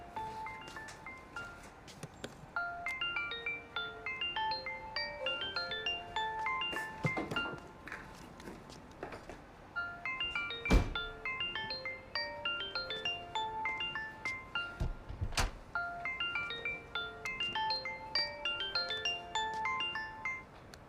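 A phone ringtone plays a bright, repeating melodic tune for a long stretch, interrupted by a few soft thumps and taps.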